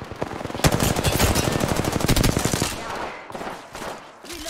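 Rapid automatic gunfire in an Apex Legends match, a dense sustained burst of shots that stops abruptly, followed by quieter scattered battle sounds.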